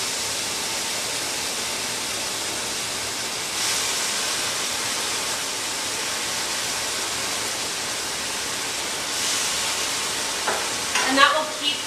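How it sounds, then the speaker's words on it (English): Pasta water poured into a hot pan of cauliflower and caramelized onions sizzles and hisses steadily, loud and close, with surges as it hits the pan and some stirring clatter near the end. "And then I add a little bit of pasta water right to the pan."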